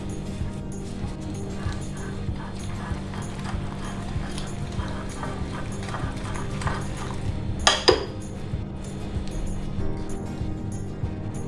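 Chicken stirred with two tablespoons of oil in a cooking pot for a steamed chicken roast gives steady scraping and clinking of a spoon against metal, with a brief louder clatter near the end.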